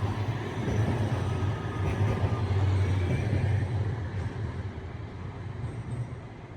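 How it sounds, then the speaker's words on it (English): An Amsterdam tram approaching and passing on a city street, a steady broad rumble that swells in the middle and slowly eases off, with no talking. "a tram is approaching, and I absolutely love trams, so let's take a break and let's quickly listen in"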